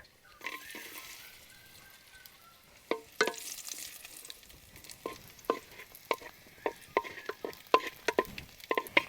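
Cashews and raisins fry in hot ghee in a pan for Kerala parippu pradhaman, a soft steady sizzle broken by scattered pops and stirring clicks that grow busier toward the end, close and fairly quiet.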